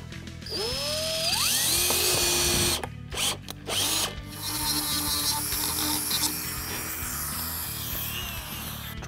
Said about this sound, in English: Then I'm gonna drill a center hole for each of the squares and use a Dremel to open them up.